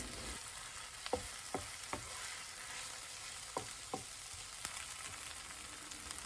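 Kimchi and fish cakes stir-frying in oil in a pan over low heat, a steady broad sizzle broken by several sharp clacks of a utensil stirring, with no voices.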